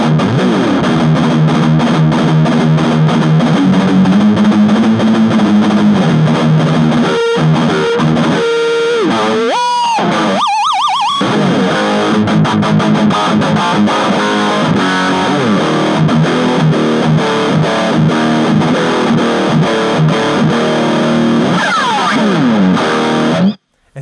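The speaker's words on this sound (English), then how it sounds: "Such a lovely, thick, fluffy sound." Thick, saturated guitar distortion from an Orange Crush 20 solid state combo amp, loud and continuous with riffing, held notes, a few sliding bends and brief choppy breaks near the middle.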